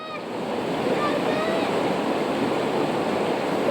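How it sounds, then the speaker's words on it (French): Broad rushing of the Lacule river, swollen with water fed from the Macaya peak watersheds, flows steadily and loudly close by, with faint high chirps above it. "L'équipe traverse la rivière Lacule qui charrie encore des quantités d'eau considérables tout le long de l'année"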